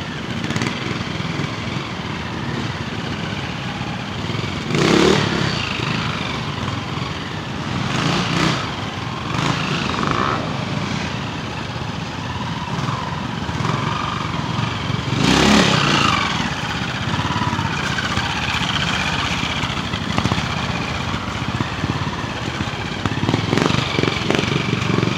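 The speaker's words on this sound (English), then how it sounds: "Bobby Moore in the specials class riding this Evo Cub." An Evo Cub motorcycle ridden in a pre-65 classic trial, its light single engine buzzing and revving steadily with occasional sharper blips, moderately near in an outdoor setting, no talk.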